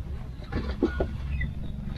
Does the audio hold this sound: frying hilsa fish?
no